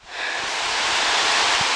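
The waterfall at Ash Cave roars as a broad, constant rush of falling water, swelling in at the start and then holding steady and loud, with no talk.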